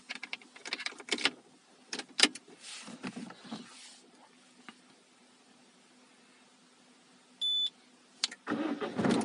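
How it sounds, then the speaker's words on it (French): A Peugeot 308 engine cranks and roars into life near the end, after scattered clunks and rattles from handling the vehicle. "Et le véhicule démarre."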